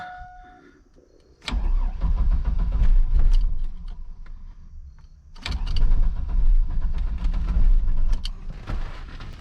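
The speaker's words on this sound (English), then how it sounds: "Sounds like it wanted to start." A Chevrolet Blazer engine, low on gas, cranks twice in long, rough, churning bursts. It sputters but never catches, and a short quiet gap separates the two attempts.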